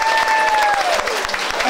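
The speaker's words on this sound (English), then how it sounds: "give him a round of applause" Brief burst of audience applause for an award recipient at a school awards event, steady crowd clapping with a voice speaking over it.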